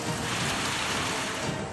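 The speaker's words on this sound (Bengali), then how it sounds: "তারপর থেকে নাগাড়ে বৃষ্টি" Steady, dense monsoon rain pours down without a break, a loud broadband wash that fills the whole stretch.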